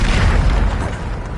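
A Bombarda blasting spell goes off in Hogwarts Legacy as one loud, close, deep boom that rumbles on and slowly fades over about a second.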